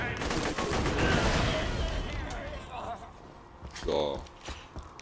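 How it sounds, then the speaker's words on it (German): Gunfire and explosions in the video game Borderlands 2 crackle and burst in bursts beneath someone talking in German, with a louder blast near the end. "ich höre die ganze Zeit Explosions"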